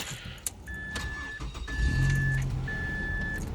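A 2005 Mazda 3 with the 2.3 engine and 122,000 miles cranks and starts, the engine catching into a steady idle while a chime dings repeatedly over it, close and moderately loud.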